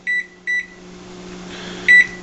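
Three short high-pitched electronic beeps, two close together and a third after a pause, over a low steady appliance hum.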